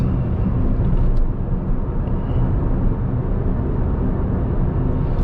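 Steady, broadband road and tyre rumble fills the cabin of a 2002 Ford Puma on a test drive, an even, continuous roar with no talking.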